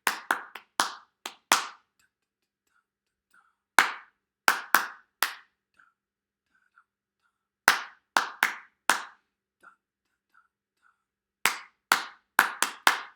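Hand clapping for a clap-back game: short clusters of crisp, close claps in simple rhythmic patterns, each phrase followed by a few seconds of near silence.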